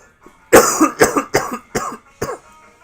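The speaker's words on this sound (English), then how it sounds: "I am so sorry about this cough." Five harsh coughs in a row, close and loud, each a sharp burst with short gaps between them.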